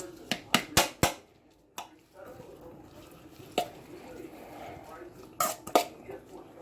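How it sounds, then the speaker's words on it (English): A knife chops ingredients for chicken salad on a cutting board, with several sharp close strikes in a quick cluster, then sparse taps and a final pair of chops, over a quiet room with faint background sound. "we're gonna chop some of this up right quick and mix it in"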